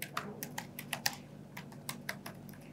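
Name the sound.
typing on a computer keyboard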